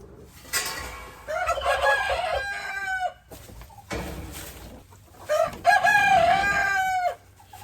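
Two loud rooster crows ring out close by, each a long drawn call, with chickens clucking softly in between and in the background.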